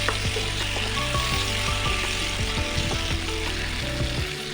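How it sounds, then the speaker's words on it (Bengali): Potato and ivy gourd strips stir-frying without water in a pan, a steady loud sizzle with repeated clicking spatula scrapes, all under a constant background hum and tones, close by, with no talk. "এবার কুদিরিটা দিয়ে একটু নাড়তে চাড়তে থাকবো কোনো রকম জল আমি কিন্তু ব্যবহার করব না"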